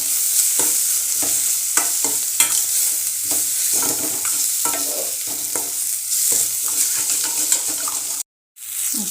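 Masala roasting in oil in a pan while being stirred for an eggplant dish, a steady close sizzle broken by repeated scraping stir strokes, with a brief dropout near the end.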